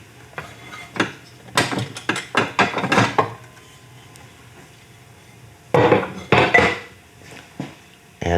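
Metal clanks and clatters in quick bursts as thumb screws are loosened and the upper fences are lifted off a DeWalt or Makita 12-inch double bevel sliding miter saw, with a quiet pause between two clusters of handling noise.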